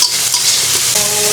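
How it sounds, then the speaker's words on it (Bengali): Tomato fries in a pan while being stirred, a close, loud hissing sizzle with faint scraping, lasting just over a second without talk. "টমেটোটা একটু ভালো করে নেড়ে ফেলে নেবো"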